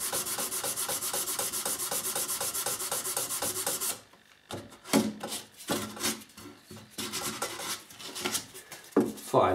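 Hand-sanding electric guitar frets with 800 grit sandpaper during a guitar restoration, first a fast, steady back-and-forth rasping, then slower, irregular scrubbing strokes, close and fairly loud.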